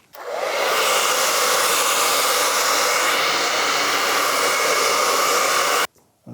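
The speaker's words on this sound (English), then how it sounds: "I'll use a hairdryer" A hair dryer switches on and blows steadily and loudly over a freshly coated painting canvas, a constant whooshing whine for several seconds before cutting off abruptly.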